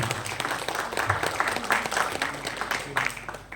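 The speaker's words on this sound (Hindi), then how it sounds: "तो टीम नाट्य संस्था के इस प्रयास के लिए एक बार जोरदार तालियां होनी चाहिए मेरे मित्रों।" Spectators at a theatre festival in Udaipur applaud a drama troupe, a full, close round of clapping that stays steady for a few seconds, with low murmuring and talk mixed in beneath it.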